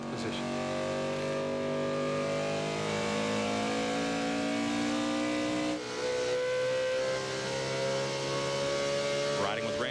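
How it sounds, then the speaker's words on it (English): Race truck engine revving at very high RPM down a straightaway during a 2000 NASCAR Craftsman Truck Series race, a loud sustained drone whose pitch climbs steadily, briefly dips near the middle, then climbs again. "The Dodgers turn a tremendous amount of RPM down the straightaway"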